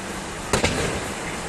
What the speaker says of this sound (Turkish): Lastikler patladı.